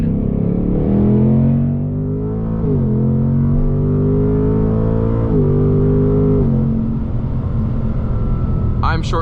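A 2024 Mustang GT Premium accelerates hard in second gear, its loud, close engine note climbing steadily in pitch and dipping briefly between pulls before a short shift and a final sharp rise.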